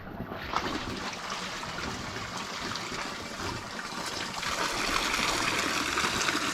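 Water trickles from a mountain spring along the Slovak SNP heroes' trail, a steady close splashing hiss that grows slightly fuller toward the end, with no voices.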